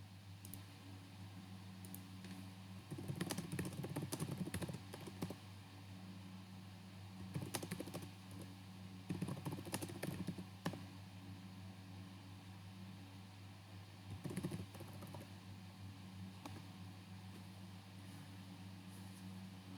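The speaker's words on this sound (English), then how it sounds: "He or she can type anything." Bursts of typing on a computer keyboard come in three or four short clusters of soft key clicks, fairly close, with quiet gaps between them over a steady low hum.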